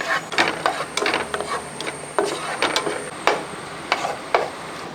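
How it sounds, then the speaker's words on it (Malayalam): Cashews and raisins fry in ghee for Kerala-style semiya payasam while a spoon stirs them, making sharp, irregular clicks and scrapes against the pan over a faint, steady sizzle. "എന്നിട്ട് ഒന്നുകൂടെ ഇളക്കി ഈ മുന്തിരി ഒന്ന് വീർത്ത് വരണം."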